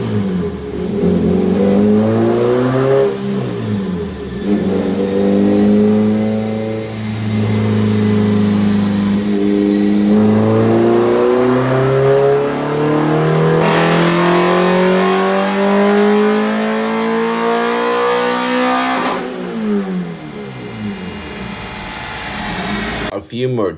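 A tuned Honda B16A engine revs hard on a dyno, climbing repeatedly through the rev range in loud, sustained sweeps that rise and fall, with a brief pause between pulls.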